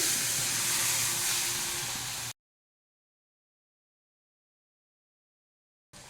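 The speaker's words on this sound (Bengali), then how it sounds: "একটু জল দিয়ে দিচ্ছি" Water splashed into a pan of frying spices with Kashmiri chilli powder while cooking a fish curry, producing a loud, steady hiss and sizzle that cuts off abruptly, followed by silence and then a brief return of sizzling.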